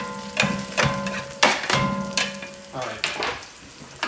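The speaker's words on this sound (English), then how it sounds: "we're going to use this scraper and just bring those right on top of the onions" Garlic and onions sizzle in a pan for chili while a scraper stirs through them, with several distinct scraping strokes over a steady frying hiss, close and fairly loud.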